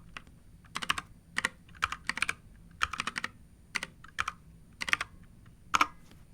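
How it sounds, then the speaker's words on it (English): Someone types a command on a computer keyboard: quiet, close clusters of keystrokes in irregular bursts with short pauses, no talking. "So now I can type that in to my command up here."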